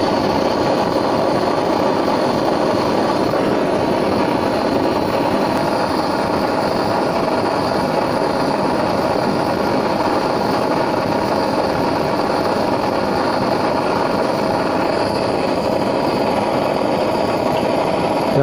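Torch heating a fork held in a vise: a loud, steady roaring hiss that runs unbroken through the whole stretch, close up, with no talk over it.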